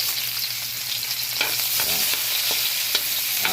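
Chopped onions sauté in a pan as the base for ginataang gulay, giving a steady, bright sizzle with a few soft scrapes and clicks from stirring, close and continuous with no talking.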